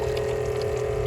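A Spectra Cape Horn Extreme 330 watermaker pumps seawater on a boat in San Francisco Bay, a steady droning hum with a constant pitched whine and water flow, loud and unbroken.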